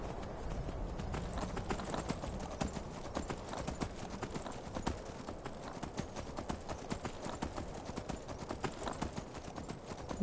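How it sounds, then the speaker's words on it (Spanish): Horse hooves clip-clop steadily at a riding pace in the video game Skyrim, a continuous rhythmic clatter close by, mixed with ambient game sound and no talk. "podemos montarnos en el caballo y nos vamos en dirección allá"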